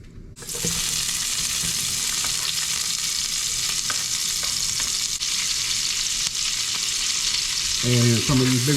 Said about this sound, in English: I got to cook this bacon slow. I got to keep flipping it over to make sure that I'm not burning it on one side.